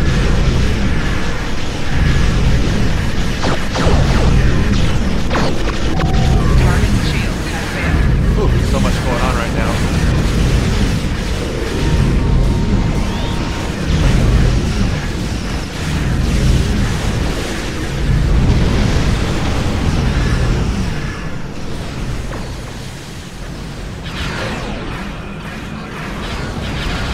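Dense, continuous barrage of booming torpedo explosions from a spread volley in the space combat game Star Trek Online, loud and sustained with repeated low-end bursts layered over game effects.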